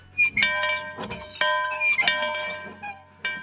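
An old cast iron school bell hung from a pressure-treated beam in an orchard rings with a series of bright, sustained metallic strikes, some close together and some spaced apart, each decaying quickly, loud and near with no talk.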